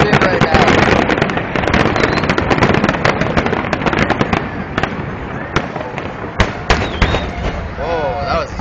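A fireworks display over Riverside Drive West in Windsor, Ontario, with a dense run of loud cracking bursts and booming pops, some sharp and near, others rumbling, while people talk and exclaim throughout.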